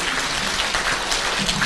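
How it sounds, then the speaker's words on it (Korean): A gum-health talk concert audience in Korea gives brief, steady applause, a close, even patter of many hands clapping with no talk. "많은 박수 부탁드리겠습니다"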